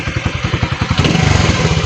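A motorcycle engine running nearby, a steady loud mechanical putter that rises slightly in pace partway through, with wind noise and no talk.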